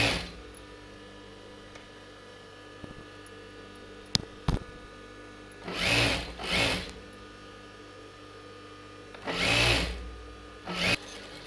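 A sewing machine stitches a blouse in a few short bursts of rapid mechanical chatter, each lasting about a second, separated by quiet pauses with faint clicks and handling noise, fairly close and soft overall.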